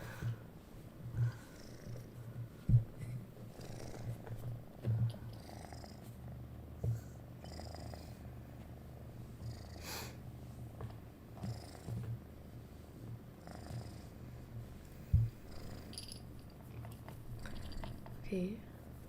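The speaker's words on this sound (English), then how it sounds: "Are y'all able to hear her purring like a lot?" A cat purrs softly and steadily in a low, continuous rumble, with a few light clicks and small noises scattered over it and no talking.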